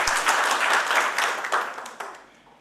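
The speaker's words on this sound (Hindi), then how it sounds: "तालियां हो जाए एक बारी आलोक जी के लिए" Applause for a guest named Alok at a marketing company event in India: a crowd claps steadily and loudly, then the clapping thins out and fades within a few seconds.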